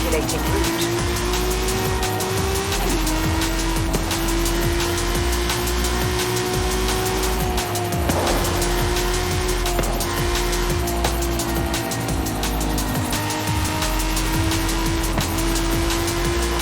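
A BMW M5 drives through traffic in Forza Horizon 5, its engine holding a steady loud drone with shifting pitch, occasional tire squeal and passing cars, continuous throughout with game music or ambience underneath.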